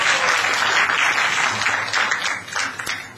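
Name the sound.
applause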